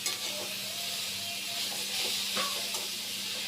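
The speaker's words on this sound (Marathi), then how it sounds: "मीठ घालायचं छानसं परतून घ्यायचं" Salted beetroot is sautéed in a pan, giving a steady close sizzling hiss with a few soft stirring scrapes and no speech.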